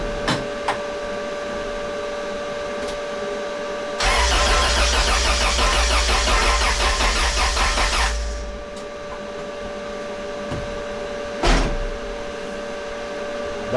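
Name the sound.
1997 Honda Del Sol B18C1 engine turning over, weak battery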